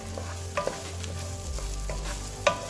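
Rice and garlic frying in a pan for Mexican rice, the grains turning golden: a steady low sizzle runs throughout, with occasional sharper clicks of a spoon stirring against the pan.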